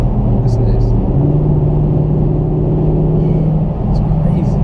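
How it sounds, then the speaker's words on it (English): A 2017 Dodge Challenger 392 Hemi Scat Pack Shaker V8 idles and burbles with a deep, loud, close exhaust rumble that holds steady for several seconds, a steady low drone with no talk over it. "Another thing that cannot go unnoticed in this car is, of course, the engine note or exhaust note. It just sounds so deep and angry"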